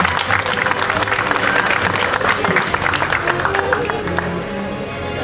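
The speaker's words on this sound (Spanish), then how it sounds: "un aplauso para él" A crowd at a fishing tournament in Villa Rica, Veracruz claps loudly and steadily, with a few whoops and voices mixed in, then fades slightly toward the end.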